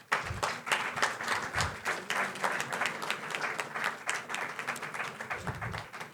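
Audience at a university partnership signing and product launch claps steadily, a moderately loud, even patter of many hands sustained throughout.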